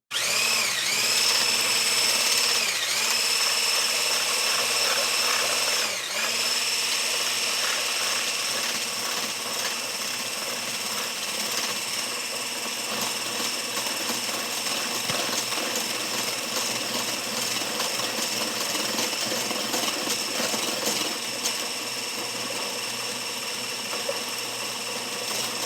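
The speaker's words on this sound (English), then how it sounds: "we're just going to let the power tool do the work" A power tool runs continuously at a steady high-pitched whine, loud and close, with a brief dip in speed early on before it settles.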